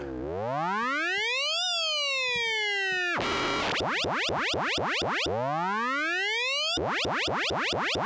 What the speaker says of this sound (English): Nice little alarm.